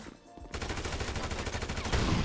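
Gunfire in GTA 5 erupts after a brief quiet moment, a loud, dense burst of rapid shots rattling continuously and swelling slightly toward the end.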